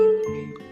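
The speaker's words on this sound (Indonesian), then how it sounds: "kerincingan dari sepeda" A single bright bicycle bell ting rings out and fades quickly, a short metallic chime heard close and clear.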